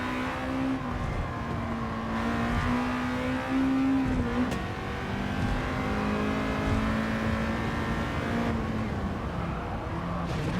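Race car engines in Gran Turismo 7 scream at high revs during a wet career-mode race in Japan, with a brief shift dip near the middle and a steady roaring drone otherwise, no voices over it.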